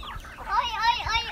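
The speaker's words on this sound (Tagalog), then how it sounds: "Nandito na naman tayo sa ating mga manok." Backyard chickens cluck in short, warbling calls at a small farm in Pampanga. The calls are close and moderately loud, and a voice may be speaking alongside them.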